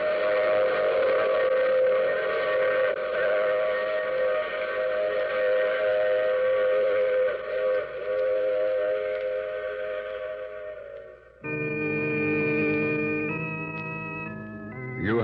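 A train whistle blows long, steady chords over the rumble of a rolling train, cutting off abruptly before a higher whistle sounds near the end.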